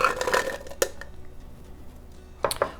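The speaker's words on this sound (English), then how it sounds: "So we're gonna go into a tall container with our garlic." Garlic cloves go into a tall container while making toum with a stick blender, giving a few light clattering knocks near the start and end, close by, with no voices.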